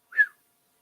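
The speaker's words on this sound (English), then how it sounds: "I can't even whistle." A person tries to whistle, producing one brief, breathy whistled note that rises and fades within a fraction of a second, alone and fairly quiet.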